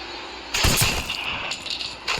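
Gunfire from the video game Granny 3 bursts loudly in close, rapid shots, with a sustained volley around the middle of the clip and another short burst at the end, with no talking.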